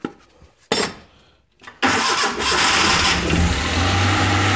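The engine of a 1988 Suzuki Carry DB71T cranks in two short bursts with a pause between them, then catches and settles into a steady, close idle.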